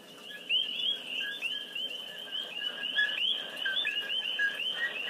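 Coqui frogs of Puerto Rico call in a dense chorus, repeated chirping two-note calls overlapping steadily throughout at moderate volume, with no voices.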